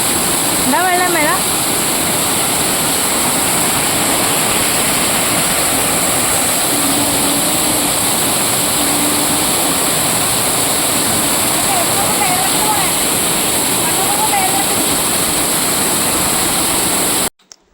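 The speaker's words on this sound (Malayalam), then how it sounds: "നമ്മളെ വീടിൻ്റെ തൊട്ട് മുമ്പിലത്തെ കുഞ്ഞു വെള്ളച്ചാട്ടമാണ് ഇത്." A small waterfall right in front of a house rushes as a loud, steady roar of falling water. Brief high voices and chirps are heard faintly over it before it cuts off at the end.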